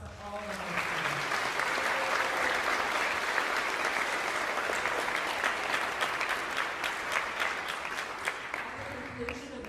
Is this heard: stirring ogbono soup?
no